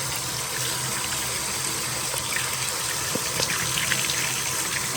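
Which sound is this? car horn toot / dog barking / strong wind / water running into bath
water running into bath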